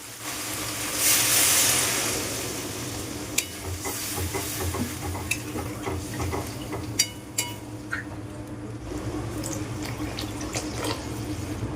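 Water splashes from a pouring stream into frying masala for a vegetarian curry, a brief rushing gush followed by a steady hiss and scattered stirring clinks in the pan.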